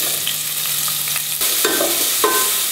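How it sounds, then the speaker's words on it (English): Chopped onion sizzles in about 60 grams of hot oil in a vessel, a loud continuous fry that flares with a couple of sharper crackles near the end. "Once the oil is heated, add the chopped onion into it."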